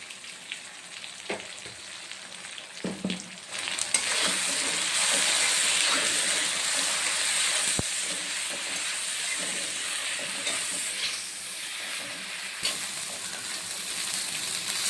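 Steady loud sizzling and hissing of khoyra fish frying in hot oil with spices and salt, with occasional small clinks and pops.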